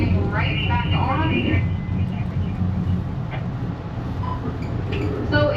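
Low rumbling hum inside an Amtrak passenger train car stopped at Seattle, steady and close, with voices and a chime-like tone early on over the cabin drone.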